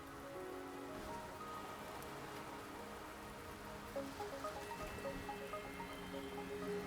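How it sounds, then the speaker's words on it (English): Steady rainfall pattering on surfaces in the video game Wuthering Waves, a constant soft wash with musical tones and light game sounds layered over it, and no voices. "Don't worry, the rain won't last."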